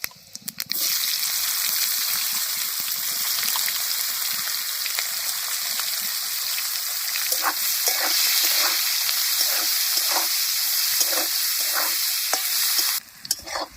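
Chopped onion with dried red chillies sizzling in fish oil in a pan, a loud steady crackling fry with repeated scraping stir strokes, alone with no talk.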